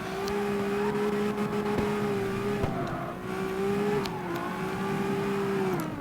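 Engine drone of a tuned 32R car drifting in the CarX Street racing game, steady and loud with a sustained revving tone that dips and rises as the car slides through a turn, no talk.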